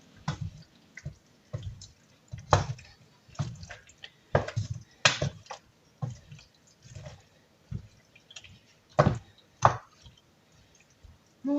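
Chicken in a tomato sauce being stirred in a pan, with close, irregular wet squelching, clicking and scraping strokes in short bursts and quiet pauses between them, and no talking.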